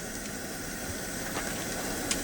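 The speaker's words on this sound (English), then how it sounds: "We're going to fry up a couple of pork chops." Pork chops sizzle in a hot fry pan, a dense, steady hiss throughout at moderate level with faint small pops.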